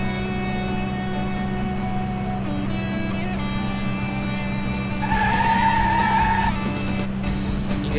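A car in the Dr. Driving mobile game hums along with a steady synthetic engine drone, and a tire-squeal tone rises briefly midway through a turn.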